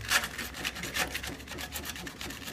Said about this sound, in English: Sand away some of this paint.